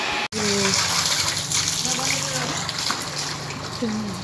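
Water gushes and splashes steadily from a newly installed pump, a continuous close rush with voices talking faintly beneath it.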